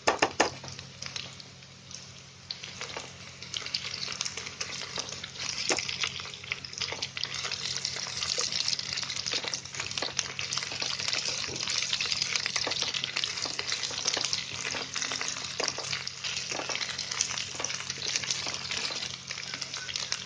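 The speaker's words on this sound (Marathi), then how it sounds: "कांदा थोडासा फ्राय झाला ना, मग त्याच्यामध्ये अद्रक लसूणची पेस्ट टाकते" Sliced onion frying in hot oil with ginger-garlic paste stirred in, a steady close sizzle running throughout with scraping stir strokes on top, no voices heard.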